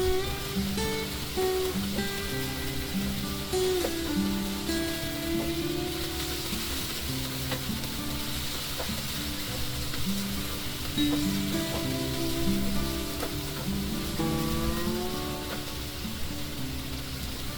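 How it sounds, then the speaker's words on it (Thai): Steady loud sizzling as chicken and garlic stir-fry in a hot pan, with intermittent stirring and scraping, continuous throughout with no talking. "เราจะผัดไก่กับกระเทียม ไปเรื่อยๆ ผัดจนไก่สุกตึง"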